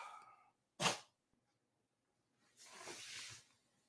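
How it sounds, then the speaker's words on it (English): A kitten gives a short, sharp sneeze, close and quiet, between soft breathy hisses, followed by a longer breathy puff of air. "You heard that's my kitten sneezing."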